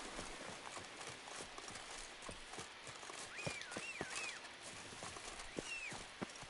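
Hooves of Roach the horse clop in an unhurried, uneven rhythm in a video game, set against a faint background hiss with a few bird-like chirps.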